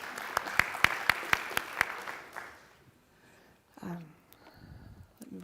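A crowd at a talk in Aberdeen claps in a short burst of applause, sharp hand claps fading out over a couple of seconds, followed by quiet room murmur.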